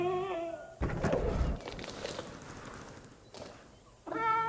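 Dryosaurus dinosaur call in the video game Jurassic World Evolution 2, a wavering, yowling cry that rises and falls, with rumbling ambience between repeated calls.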